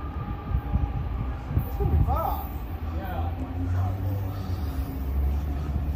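A BNSF locomotive power move, led by unit 3761, passes Emeryville Amtrak station in California: a steady, close, low rumble that holds throughout without a horn.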